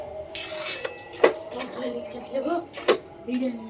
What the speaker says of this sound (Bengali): ঘি দিয়ে চারিদিকটা একটু নেড়ে চেড়ে দিয়েছি